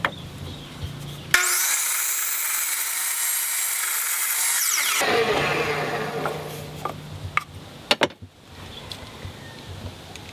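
A power saw cuts through the top of a homemade bootube, a loud steady whine for a few seconds that cuts off abruptly, followed by scraping and a few sharp knocks.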